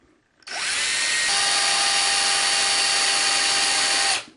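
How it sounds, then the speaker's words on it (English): A power drill whines up sharply and runs steadily for several seconds boring a 1/4 inch hole in wood, its pitch shifting slightly as it bites in, then stops abruptly. "now I'm ready to drill a 1/4 inch hole on either side"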